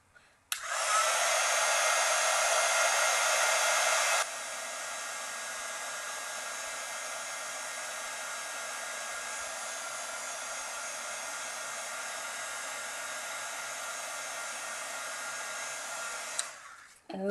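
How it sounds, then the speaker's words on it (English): Heat tool blowing to dry ink on a mail art envelope, a steady close hiss that starts abruptly, drops to a slightly lower roar after a few seconds, and runs unbroken for about sixteen seconds before cutting off. "Maybe I will use my heat tool."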